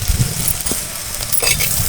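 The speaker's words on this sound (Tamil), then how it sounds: "இப்போ நம்ம கருவேப்பிலையை உள்ளே சேர்த்துக்கலாம்" Curry leaves sizzling in hot oil, a steady crackling hiss close up with a few sharper pops and a light stirring scrape.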